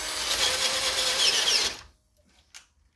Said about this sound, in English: Might just have killed our Bosch drill.